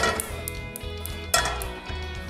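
A metal frying pan is set on a kitchen stove while sausages and onion are prepared, giving a short series of close, clattering metallic clinks and knocks.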